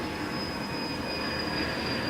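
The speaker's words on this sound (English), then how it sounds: "There are like trains and airplanes outside the house" Trains and airplanes passing outside a house make a steady rumbling drone with a thin high whine, constant and moderately loud, with no voices.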